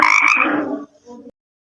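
Frog croaking, one loud close raspy croak followed by a shorter, quieter second croak, then silence.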